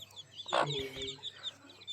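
A single desi hen gives a short burst of clucking, with fainter bird chirps in the background of a quiet village farmyard.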